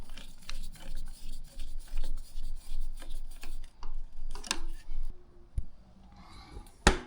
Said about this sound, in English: I'm going to tighten the hose clamps.